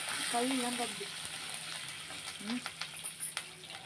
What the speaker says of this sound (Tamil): வேர்க்கடலை போட்டு நல்லா வறுத்துக்கலாம். அதுவும் கொஞ்சம் செவந்த உடனே கருவேப்பிலை ஒரு கொத்து கருவேப்பிலை போட்டுக்கலாம்